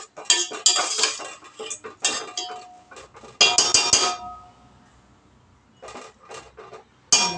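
Rice and water being stirred in a metal pot, heard as close, bright scraping and clinking of a utensil against the pot in uneven bursts, with a quieter pause before a final sharp clink.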